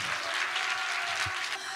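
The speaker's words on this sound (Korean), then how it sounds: "다시 한번 박수하겠습니다." Audience at a church rally applauding, a dense steady burst of clapping from many hands throughout the short moment.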